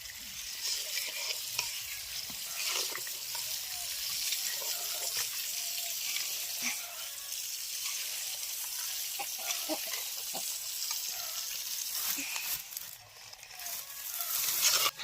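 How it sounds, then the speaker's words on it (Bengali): Sugar stirred little by little into cooled milk in a pan for pera sandesh, a quiet ongoing hiss with repeated soft scraping and clicking strokes of a spoon, faint and close, no speech. "এবার অল্প অল্প করে চিনিটা এর মধ্যে মেশাবো"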